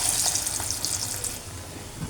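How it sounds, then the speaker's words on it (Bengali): Beef and jackfruit kebabs frying slowly on low heat in white oil, a steady bright sizzle and crackle throughout, close and continuous. "আমি আস্তে আস্তে জালে ভেজে নিছি।"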